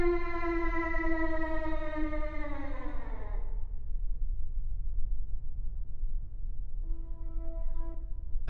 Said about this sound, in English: Actual siren.